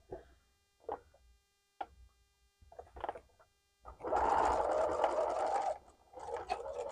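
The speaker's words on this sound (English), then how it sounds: "So let's just switch over to the sewing machine." A sewing machine stitches a table runner in a steady burst of nearly two seconds, preceded by scattered light clicks and handling taps, then a shorter run of stitching near the end.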